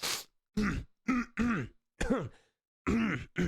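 A person clearing their throat repeatedly, several harsh, gravelly bursts separated by short pauses, close to the microphone.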